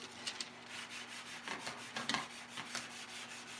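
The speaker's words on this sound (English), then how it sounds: "Gotta get into the zen of sanding." A wooden model wing panel being sanded by hand: soft, rhythmic rubbing strokes repeat at a slow, even pace, faint and close over a low steady hum, with no talking.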